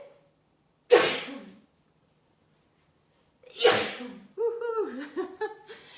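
Two sharp sneezes a few seconds apart, close and loud, followed by a brief burst of voiced sounds in an otherwise quiet room.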